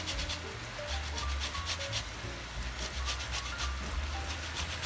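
Orange zest being grated over glossy, sticky teriyaki chicken, a soft rhythmic rasping of peel against a grater in repeated short strokes, close and quiet with no talking.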